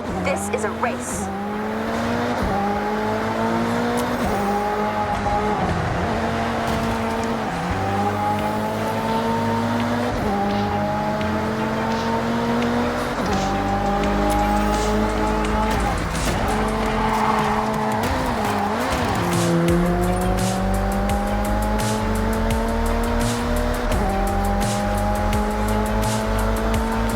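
Race cars in the Forza Horizon 6 video game, with engines revving up through repeated gear changes and tires squealing through corners, loud and continuous for the whole stretch.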